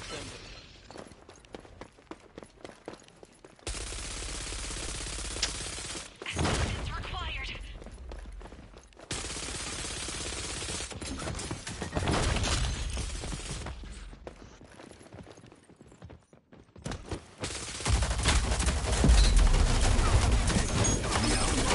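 Gunfire in the video game Rogue Company comes in bursts of automatic shots and sharp impacts amid shifting in-game noise, with someone talking between and over the firing.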